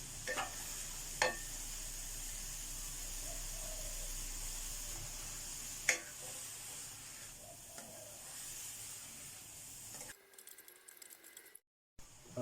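Small termite mushrooms stir-fried in a pan, a steady close sizzle and hiss with occasional clinks of the spatula, continuous and moderately quiet, then cutting off near the end; no voices.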